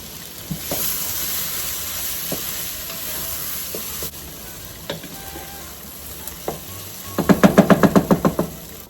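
Raw flour cooking in a pot as a thickener for chicken and dumplings, a steady low sizzle with occasional knocks of a utensil against the pot, ending in a quick run of louder rhythmic scraping strokes.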